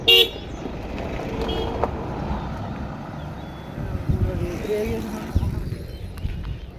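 A car horn gives one short, sharp honk at the very start. Then a low traffic rumble continues while people talk nearby.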